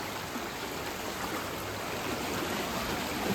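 Floodwater in Ackerly Creek in downtown Dalton, Pennsylvania rushes past close by, a loud, dense, unbroken roar of churning water with no voices over it.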